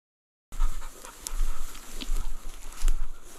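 A hunting dog pants rapidly and steadily nearby during a pheasant hunt, quick breathy puffs with a faint jingle now and then, after a brief silence at the start.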